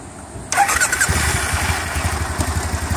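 2010 Triumph Bonneville SE motorcycle cranks and fires after a short quiet moment, then settles into a loud, close, rumbling idle with throbbing pulses.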